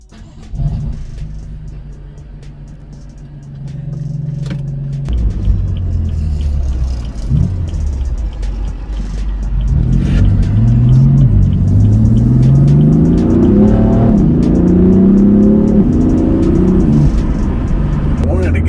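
A BMW F82 M4 with its exhaust valves open revs and pulls, starting as a low idle rumble and swelling into a loud, rising engine roar that carries through the second half, with a person speaking at times.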